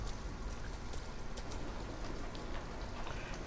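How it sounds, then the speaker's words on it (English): Steady rain pours in Detroit: Become Human, a dense, even hiss of drops hitting surfaces with scattered sharper splashes, close and continuous with no voices. "That's out of the rain, at least."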